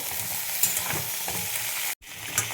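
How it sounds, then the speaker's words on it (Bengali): Eggplant, drumsticks and other vegetables frying in oil in a pan for shukto give a steady close sizzle with a few stirring clatters, broken by a brief silent gap near the end. "এবার সব সবজিগুলো আমি ভেজে নেব"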